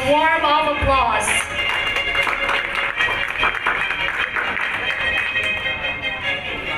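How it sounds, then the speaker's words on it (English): Audience applause at a Lions Club officers' induction ceremony, a sustained patter of hands in a hall that begins under a brief musical tone and carries on steadily with a few louder claps standing out. "Let us once again give them a warm of applause."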